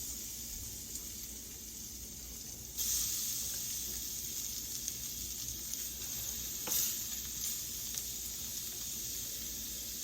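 Homemade sausages made from pantry staples go into a hot pan, five at a time, and a continuous sizzling hiss follows. It jumps louder as they land and stays steady, close and unbroken, with no talking.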